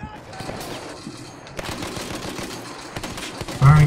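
Rapid automatic gunfire in Battlefield 1, a weapon fired from the hip in bursts of sharp close shots that grow louder toward the end, with a player's voice talking over the action.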